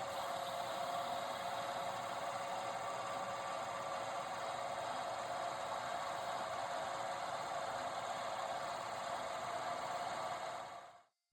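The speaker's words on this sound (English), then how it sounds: "The first task was to face the end of some hex brass bar." A lathe faces the end of a hex brass bar with a steady, continuous machining whir and cutting hiss, constant in level throughout before stopping abruptly at the end.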